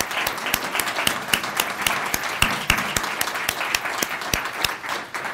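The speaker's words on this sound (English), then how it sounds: "Let's all give Catherine a round of applause" Audience applause at a university lecture event: a broad roar of clapping from a seated crowd, with sharp individual claps standing out near the microphone, sustained and fairly loud across the whole stretch.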